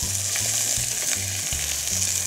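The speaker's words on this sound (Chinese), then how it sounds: "我们就可以借由锅子里面的油，哪里有油就把蒜头、蒜末赶到油那边，" Garlic and chicken stir-frying in rendered chicken fat in a wok, a close, continuous hissing sizzle with rhythmic scraping as the pieces are pushed around, and no voices.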